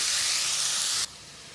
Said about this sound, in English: So the onions have been sizzling away, they're starting to get brown.